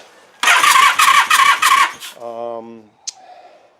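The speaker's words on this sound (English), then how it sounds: "Starter works, but I'm getting no spark." A 1978 Honda CB400 motorcycle with no spark has its electric starter whirring through a short burst of cranking, followed by a fading whine and a brief squeak.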